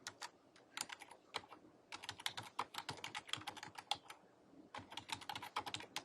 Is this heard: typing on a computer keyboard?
yes